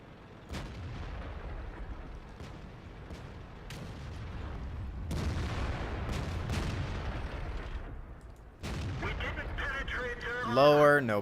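Tank cannon shots in World of Tanks, a series of sharp booming reports spaced through a rumbling battle, with a voice talking over the action.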